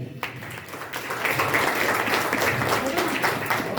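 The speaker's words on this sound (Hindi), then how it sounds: "जितने लोग सुन रहे हैं सब ताली बजाएंगे।" Congregation clapping together at a Christmas church sermon, a dense steady wash of hands that swells in after a brief start and holds throughout, with a faint voice underneath.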